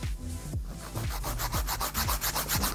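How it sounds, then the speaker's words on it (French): The 100-grit side of a 100/180 nail file rubs back and forth against an acrylic gel nail, producing a steady, rhythmic rasping of quick close strokes with no talking. "On va limer un petit peu du côté comme ça."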